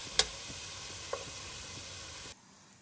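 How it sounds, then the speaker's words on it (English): Food sizzling in three to four tablespoons of oil over medium heat as it is stir fried until golden, a soft steady hiss with a couple of sharp spoon ticks against the pan, then an abrupt cut to quiet. "I will just stir fry it until it turns golden."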